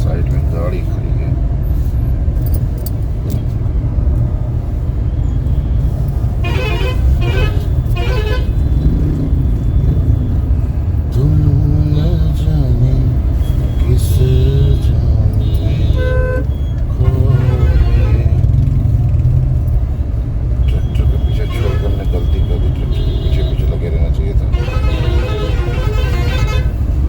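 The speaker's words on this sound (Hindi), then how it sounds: "उसकी वजह से यहाँ पे कुछ ज़्यादा ही कंजेशन हो गया है" Congested night traffic on the Kanpur–Lucknow road, jammed by unfinished overbridges: a continuous loud engine rumble with several short car and bus horn toots scattered throughout, while a person talks over it.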